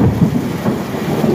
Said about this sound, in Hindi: ये बादल कितनी तेजी से गरज रहे थे और ये भी बरस रहे हैं